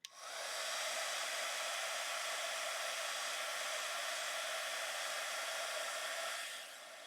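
Hair dryer or heat tool blowing steadily to dry freshly stamped ink on a craft card, a loud, continuous airy roar that starts abruptly and drops in level just before the end.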